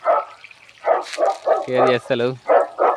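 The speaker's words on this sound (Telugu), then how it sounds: "ఆ కుక్క సౌండ్ పెట్టడం వల్ల రావని" Recorded dog barks played through a loudspeaker in a maize field, slightly harsh and electronic, come in short bursts, with barks repeating between pauses.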